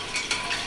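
Oil heating in a pan sizzles briefly with a soft, close hiss that swells twice in quick succession. The cooking is for a Bengali curry with cumin and coriander.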